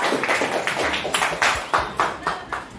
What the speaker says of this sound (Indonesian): berikan tepuk tangan ke kita